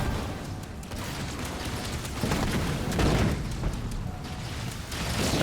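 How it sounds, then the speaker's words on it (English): Continuous rumbling explosions in Halo Wars 2, with booming bursts that swell around the middle and again near the end, dense and loud with no speech. "But those explosions from Goo Boy have done a lot of damage, right?"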